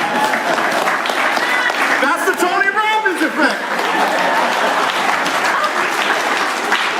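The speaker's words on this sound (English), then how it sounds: "You just want to applaud them for standing?" A room full of people applauds steadily for several seconds, loud and close, with laughter and chatter mixed in and a voice speaking over the clapping.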